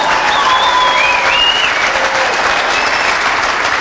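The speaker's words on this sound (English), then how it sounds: "How about a round of applause for that one, you guys?" Sustained audience applause at a music industry conference keynote in Vancouver, dense and loud throughout with a few cheers and whistles riding on top.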